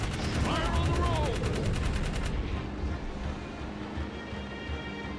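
Rapid automatic gunfire from the Jak 3 video game, a dense rattling burst over the first two seconds that gives way to a lower rumbling game ambience, with a voice talking over the shots.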